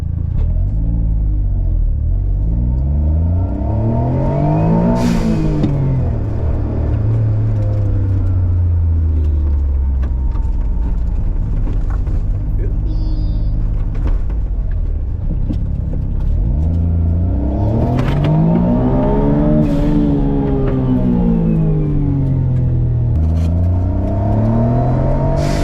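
Autozam AZ-1 (Suzuki Cara) kei car driving around a parking lot, its small engine rumbling loudly up and down in pitch as it accelerates, shifts and slows.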